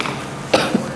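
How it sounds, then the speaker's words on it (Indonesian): A short, muffled cough sounds close by, followed quickly by a softer second catch of the throat, with no speech. "Saya lagi agak batuk ini."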